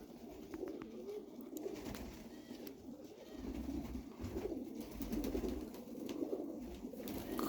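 Pigeons coo softly and steadily over a low, continuous background rumble, with faint clicks and rustles scattered throughout, near a coop in Wrocław.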